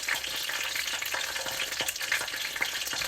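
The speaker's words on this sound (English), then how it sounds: "Well, I'm going to sear it." Chicken sears in hot oil in a pan for fried chicken, a steady close sizzle with scattered crackles and pops throughout, no voices.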